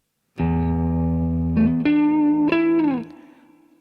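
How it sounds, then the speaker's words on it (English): An electric guitar plays through a Roland Blues Cube amp with its built-in reverb, a loud sustained chord shifting into bent higher notes, then a reverb tail fading into quiet. "you can hear a reverb. The amp has a reverb, and I'm using the reverb of the amp."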